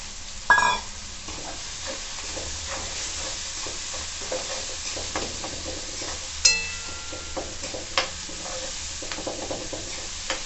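Mashed potatoes and green peas go into a pan of hot oil with tomatoes for aloo matar and are stirred. A steady, quiet sizzle runs underneath, broken by sharp scraping clacks from the spoon against the pan.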